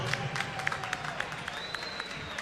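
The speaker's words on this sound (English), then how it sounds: "Ruslan, please come over and let's give one more applause to Fatima, please." Applause at a boxing event, a moderately faint patter of scattered clapping from a crowd, with a few sharper individual claps standing out against a murmuring background.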